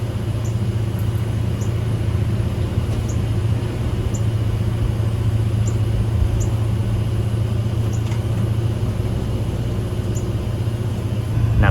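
A 2008 Chevy Colorado pickup truck engine runs steadily in reverse, giving a constant low idling rumble close by, with faint periodic ticks over it and no break in the sound.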